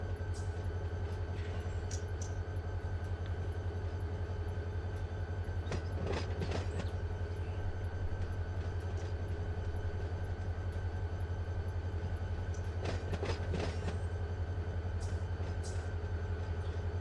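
Train locomotives moving through a rail yard at Barstow in Run8 Train Simulator give a steady low engine rumble, with two brief clusters of wheel clatter and squeal rising over it, and no one talking.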